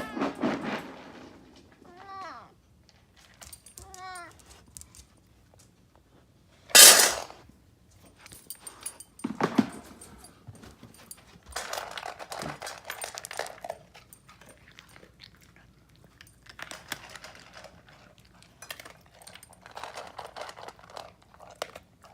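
Dash the cat eats dog food with crinkling, crunching bites at close range, broken up by a few meows and scattered bursts of noise and knocks.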